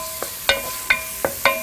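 Garlic cloves chopped coarsely with a knife on a board, five sharp separate taps in an uneven rhythm, close and clear, no talk.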